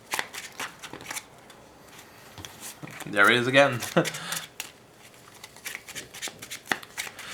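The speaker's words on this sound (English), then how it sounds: "Now, I am shuffling like this, just so you see that I'm not stacking these." A deck of playing cards is shuffled with rapid riffling clicks and soft flicks scattered across the clip, with a denser burst in the middle, while someone speaks quietly.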